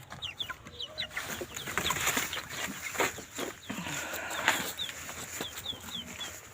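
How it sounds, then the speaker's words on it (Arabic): Chickens cluck and chatter around a coop being prepared for brooding chicks and ducklings, with repeated close, busy clucks and occasional wing flaps over a steady background. "الفراخ نفسهم يطلعوا في تعالي تعالي تعالي"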